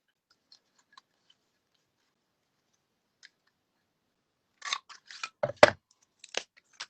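Scissors cut paper for a handmade notebook: a few faint ticks, then a quick cluster of sharp snips and clicks close by.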